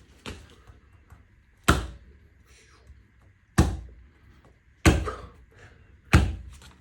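A strongman strikes a nail into a wooden board with his bare hand: four or five sharp, hard knocks spaced over several seconds, each ringing briefly before fading, with quiet background between blows.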